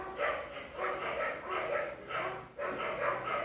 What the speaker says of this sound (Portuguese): Quando um começa a latir, o outro começa a latir,